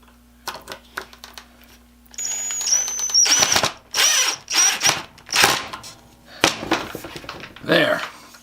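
A power drill drives a screw through a Swiffer handle into its hollow, with several short whirring bursts separated by pauses and faint handling noises in a quiet room.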